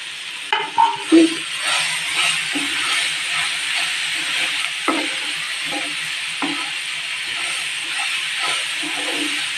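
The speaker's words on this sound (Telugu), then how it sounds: "బాగా కలగట్టేసుకొని బాగా సిమ్లోనే వేగాలండి." Broad beans and green chillies fry in a pan with a steady, close sizzle. Occasional clacks and scrapes from stirring break through, and there is no talk.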